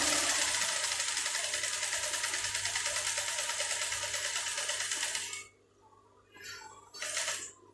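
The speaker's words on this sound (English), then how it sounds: "at the starting point, and I tack it and sew" A Juki high-speed industrial sewing machine stitching fabric, a fast steady whirring hum for about five seconds, then a pause and a second short burst of stitching near the end.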